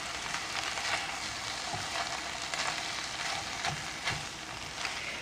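Shrimp fried rice sizzles in a hot pan with a continuous bright crackle, punctuated by occasional soft stirring scrapes and clicks.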